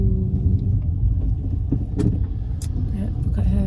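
A car rolls slowly along a narrow road, a low steady rumble of engine and tyres heard from inside the vehicle, with faint clicks and rattles over the top.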